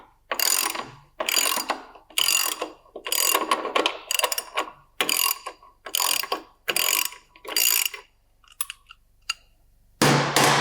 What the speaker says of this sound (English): break that axle nut loose.